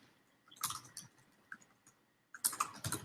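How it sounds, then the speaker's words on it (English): Bursts of computer keyboard typing during an online chat, clustered clicks around the first second, a few isolated taps, then a denser flurry near the end, close and fairly quiet with no talking. "I'm typing in the chat"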